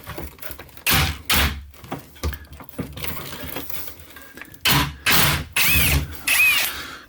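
A power drill backs screws out of 70-year-old window sun shades in short loud bursts, about six whirring runs separated by pauses with small clinks of metal.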